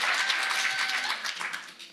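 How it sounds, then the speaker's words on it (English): Audience applause at a West End showcase event, a steady wash of clapping that fades slightly toward the end, heard alone without talk. "Can we get a round of applause?"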